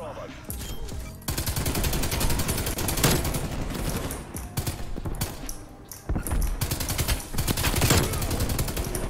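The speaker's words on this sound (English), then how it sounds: "Applying suppressive fire." Suppressive automatic gunfire in the video game Call of Duty Cold War: long, loud, continuous bursts with brief pauses between them, mixed with thuds and impacts, and a player's voice occasionally underneath.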